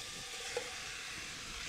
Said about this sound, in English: now you can hear that wonderful sizzle.